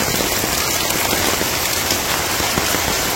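Heavy monsoon rain hammers down in a flooded Bangladeshi village during the rainy season, a loud, dense, constant roar of drops on surfaces with no voices.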